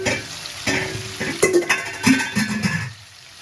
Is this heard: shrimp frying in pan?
yes